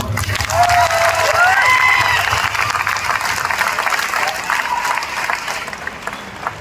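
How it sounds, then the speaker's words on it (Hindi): Applause and cheering from a large audience of over 14,000 people at a big event. The clapping is loud and sustained, with some voices and whistles mixed in, and it fades a little toward the end. "सब लोगों के लिए एक जोरदार ताली"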